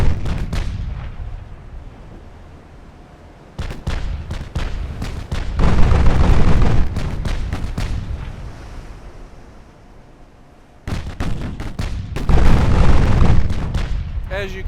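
Battleship main battery guns fire in Ultimate Admiral Dreadnoughts, sounding as deep, booming salvos in rapid clusters that swell into rumbling rolls over a steady wind and sea backdrop.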